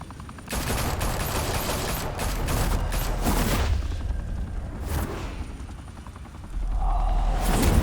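Gunfire in the Batman Telltale Series game: a dense fusillade of rapid shots and booms over a heavy rumble, pausing briefly midway before a second burst with a low droning hum.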